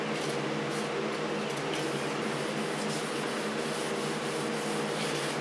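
Hand sanding of motorcycle paint with folded, wet-dipped sandpaper gives a steady, continuous rubbing and scraping hiss with no talk over it.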